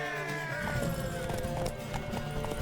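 Horse hooves clip-clop at a fast gallop during a horse race in the video game The Witcher 3: Wild Hunt, rhythmic and fairly close, with a brief whinny-like sound mixed in.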